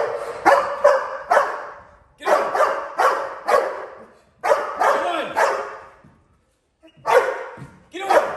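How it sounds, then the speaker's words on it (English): A protection dog gives a holding bark in bursts, several sharp barks at a time with short gaps and pauses, close and loud, with talk heard around the barking. "They ain't going to do a holding bark if you just sit there."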